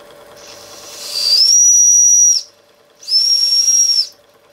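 Two loud, shrill whistling hisses of steam escaping from a vintage Jensen Model 70 model steam engine, the first longer and the second shorter, separated by a brief pause over a faint mechanical hum.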